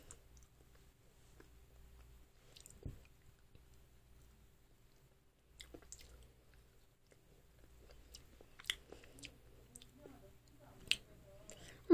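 Green tea macarons being eaten up close, with soft, sparse chewing and biting clicks and squishes spread unevenly over a very quiet background.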